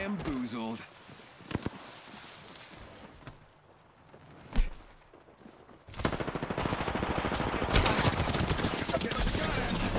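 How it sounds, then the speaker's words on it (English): Gunfire in the Apex Legends video game, scattered shots early, then a loud sustained burst of rapid automatic fire through the second half, with voices talking over parts of it. "Shots fired. And they're hitting me."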